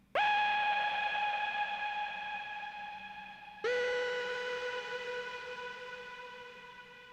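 A sustained synth pad note with rich harmonics shifts to a second, lower note, each washed in a spacious Chromaverb reverb tail that lingers and slowly fades.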